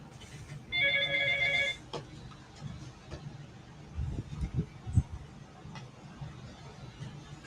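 A phone rings twice in a quick trill on an outgoing call, followed by a quiet wait with faint background noise and a few soft knocks.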